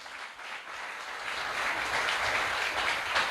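A Salvation Army church congregation breaks into applause, a steady wash of clapping that swells louder toward the end and carries on without pause.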